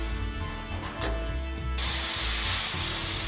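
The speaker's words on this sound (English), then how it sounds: "With a rattle of chains, some detailed instructions, and the whoosh of steam power, the 25-ton tank is lifted onto a railway flatbed." Steam power bursts out in a sudden loud whoosh of hissing spray while a 25-ton tank is lifted onto a railway flatbed, following a low mechanical rumble.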